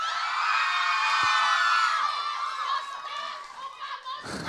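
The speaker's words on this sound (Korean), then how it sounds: "자, 일단 환호 소리를 즐기시죠" Fans at a K-pop showcase screaming and cheering in a loud, sustained wall of high-pitched voices that slowly fades, with a few claps near the end.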